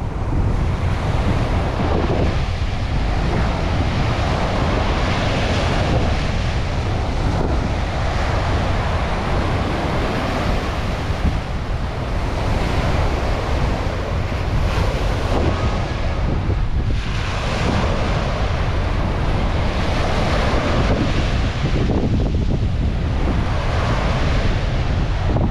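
Ocean waves surging onto the shore of Manila Bay, a continuous loud roar of surf with rolling swells, heavy wind buffeting the microphone throughout, no voices.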